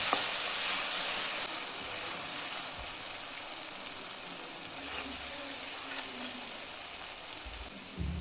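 Garlic and green chilies sizzle steadily in a hot pan, a continuous close frying crackle that stays fairly loud throughout with no voices.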